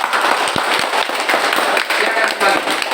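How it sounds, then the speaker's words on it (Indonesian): A classroom group claps for group 2, a dense, even patter of many hands lasting a few seconds, loud and close, with some voices mixed in. "tepuk tangan untuk kelompok 2"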